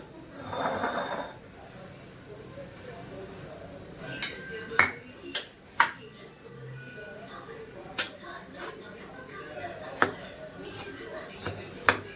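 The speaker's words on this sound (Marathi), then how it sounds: "मीठे मिरच्या कापाई कापून घालणारे" Green chillies being chopped for sabudana vada, sharp isolated knife strikes on a board that come in sparse bursts, fairly close, in a quiet room.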